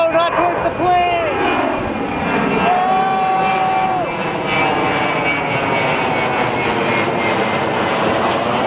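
A loud, steady airplane engine drones overhead, rising and then holding a broad roar. Excited voices call out near the start.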